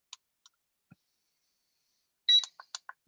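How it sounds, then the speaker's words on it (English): A workout timer starting up: a few faint scattered clicks, then a quick cluster of short, bright electronic beeps and chirps, with no talking. "Let's go ahead and get the timer started"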